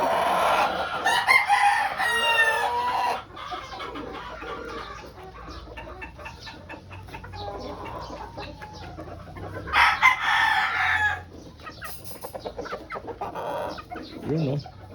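A pure white Kelso broodstag with a straight comb crows loudly at close range, then follows with clucking, and crows again later with a few quieter cackles in between.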